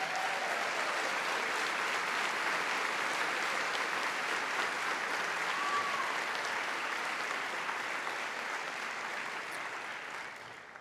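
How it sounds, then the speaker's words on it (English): A large audience at a 2022 medical school hooding ceremony claps in a sustained, even round of applause that fills the hall and tapers off at the end. "A round of applause for them."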